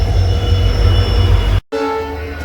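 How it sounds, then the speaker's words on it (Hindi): A WDP4D diesel locomotive at the head of a passenger train at Kurukshetra Junction rumbles loudly with a deep drone, cut by a brief break before the hum resumes, without any talk. "तो बाकी चलते हैं हम, ट्रेन में डिपार्चर होने वाला है।"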